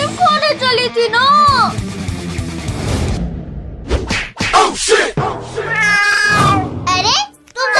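Cats meow and caterwaul loudly in a desi comedy skit, their drawn-out, rising and falling cries mixed with lively voices talking over them.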